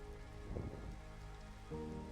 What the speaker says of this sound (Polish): I deszcz pada.